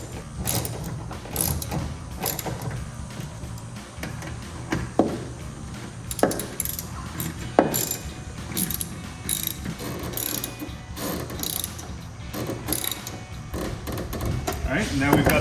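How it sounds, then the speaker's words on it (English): A socket wrench ratchets in bursts while LED tail lights with black housings and clear lenses are fitted to a 2018-2020 Ford F-150, giving close, crisp clicking strokes with short pauses between them and some knocking of tools on the truck. "finish it off with the socket wrench."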